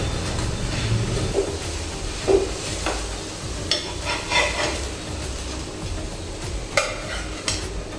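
Maharashtrian matar thalipith, a flatbread with onion and coriander, roasts slowly in a pan with a soft steady sizzle, scattered metallic clinks and taps of a utensil against the pan.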